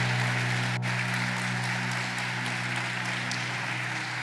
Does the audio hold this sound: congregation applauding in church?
yes